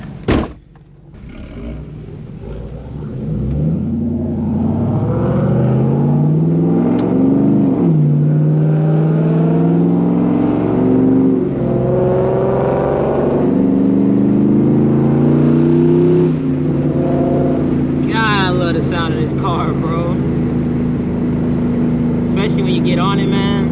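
Ford Mustang with an FBO Coyote engine accelerating hard on back roads, a loud, sustained engine roar rising through the gears with rapid shifts, close and continuous, with people talking in the car.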